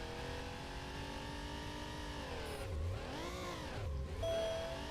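A Porsche in the Need for Speed Porsche Unleashed racing game whines at high revs, with the engine tone sweeping down and back up twice while the car spins under handbrake, steady and loud without any speech.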